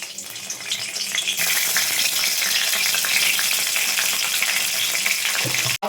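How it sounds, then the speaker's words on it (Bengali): Bay leaf tempering frying in oil in a pan for shukto, a loud, dense sizzle that swells suddenly and holds steady, with utensil stirring throughout and a brief clatter at the end. "ফোড়ন তেজপাতা একটু ভাজা হলে"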